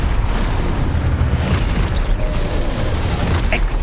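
A Deposo spell cast in the Hogwarts Legacy video game lands as a heavy, booming rumble with a brief sparkling burst near the end, loud and dense with no voices over it.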